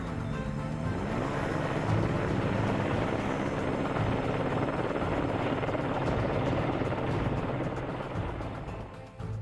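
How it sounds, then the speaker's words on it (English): A search and rescue helicopter flies over alpine terrain, its steady rotor and engine roar loud and continuous for the whole stretch, broad and wash-like with no voices. "The helicopter's been working this area for well over an hour now."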